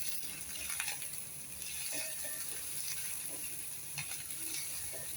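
Onions with salt sizzle in a pan, sautéing for a Bengal gram dal dish: a faint, steady crackling hiss with scattered small pops throughout, no voices.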